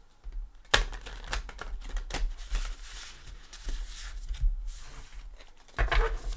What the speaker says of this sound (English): let's bring in the Angel Tarot, and let's give it a couple shuffles